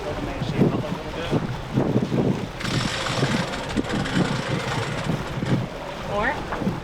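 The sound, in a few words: gusty wind squall on a sailboat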